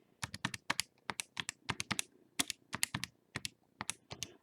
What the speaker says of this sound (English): So I'm just type this into the calculator to get a number.